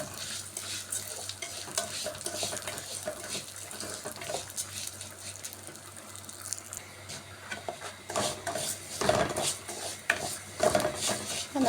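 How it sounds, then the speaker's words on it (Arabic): Vermicelli for rice with vermicelli sizzles in a pan while it is stirred and scraped, a continuous close fry with louder clattering stirs near the end. "انا كده خلاص كده تتحمر معايا الشعريه"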